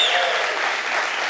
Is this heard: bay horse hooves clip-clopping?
no